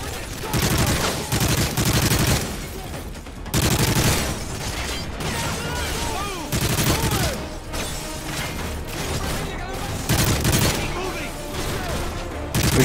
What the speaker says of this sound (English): Shoot him through the cabinet? We did a little bit.